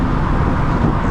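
BMW Z1 roadster engine under way at about 80 km/h, a constant loud low rumble with road noise, heard briefly and alone.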